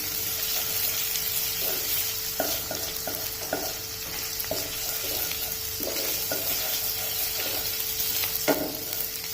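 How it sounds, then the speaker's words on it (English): Vegetables cooking in hot oil over a high flame for hot and sour soup: a continuous loud sizzle and crackle with repeated stirring scrapes through the whole stretch, no talking. "Let these just cook in the oil for some time."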